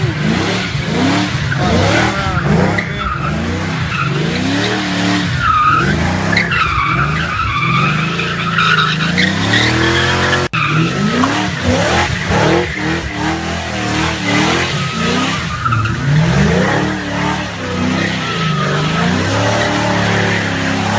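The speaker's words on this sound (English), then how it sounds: "this was where I learned how to do donuts" A car spins donuts in a lot, tires skidding and squealing continuously over a loud revving engine that rises and falls in repeated sweeps, close and sustained throughout.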